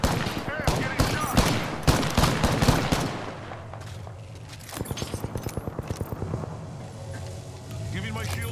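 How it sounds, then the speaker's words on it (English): Gunfire in Apex Legends comes as loud, rapid bursts of shots, first heavy and dense, then a quieter rhythmic automatic volley, with a voice speaking over the battle. "Hey, I'm getting shot."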